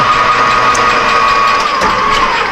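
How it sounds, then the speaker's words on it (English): A lathe runs steadily with a center drill in a homemade setup, giving a loud continuous machine whine with a faint tonal hum and occasional light ticks, close and alone without talk. "Okay, now we're going to use this new center drill setup that I made."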